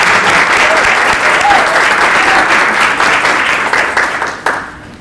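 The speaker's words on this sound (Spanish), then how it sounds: "Aplausos." Academic audience at a psychology doctorate inaugural lecture applauds a new director, loud sustained clapping from a large crowd that thins and fades near the end.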